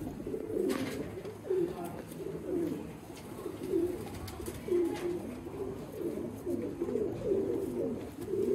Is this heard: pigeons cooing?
yes